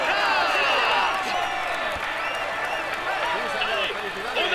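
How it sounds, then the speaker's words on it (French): A virtual crowd at the cycling world championships in London in the Tour de France 2020 video game claps and cheers for the new world champion. The applause is broad and continuous, with whoops mixed in and a commentator talking over it. "Allez, on applaudit le nouveau porteur du maillot arc-en-ciel"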